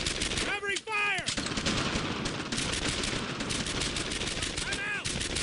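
Dense, rapid gunfire from rifles and machine guns in the World War II shooter Brothers In Arms: Earned In Blood, loud and continuous bursts with soldiers shouting over it.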